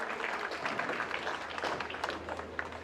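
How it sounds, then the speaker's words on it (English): An audience at a national track and field championship gives a soft, scattered round of applause that sounds fairly distant in a large arena. "please give this speaker to us a round of applause, please"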